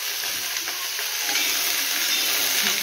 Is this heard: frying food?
yes